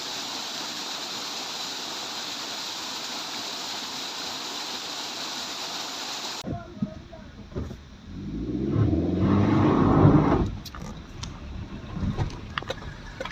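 A mountain waterfall on the road between Chitkul and Yulla Khas roars as a steady, dense rush of falling water for about six seconds. It then cuts to a quieter stretch of low rumbling and splashing.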